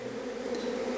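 Honeybees buzz around a small hive box, a steady, dense drone of many insects close by, with no voices.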